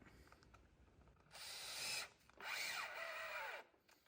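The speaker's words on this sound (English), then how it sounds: "I can screw it in place just above the shoulder line" A power driver drives a screw through a tenon jig into green oak in two close, distinct bursts, the second longer and winding down in pitch, in otherwise quiet surroundings.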